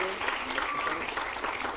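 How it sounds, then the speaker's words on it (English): Audience applause at a city council meeting, an even, moderate round of clapping from the room that holds steady throughout, with faint voices mixed in. "So let's give them all a huge round of applause."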